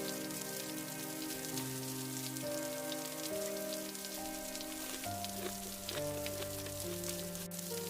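Steady rain patters and hisses throughout, blended with a gentle instrumental melody playing over it.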